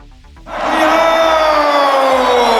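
Boxing fight crowd of 50,000 at Suncorp Stadium in Brisbane erupts from low murmur into a massive sustained roar and cheer that holds loud and full for the remaining seconds.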